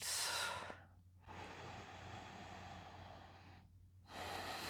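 Slow, steady breathing during a breath exercise: a long audible inhale followed by an exhale, close and soft, with brief quiet gaps in between.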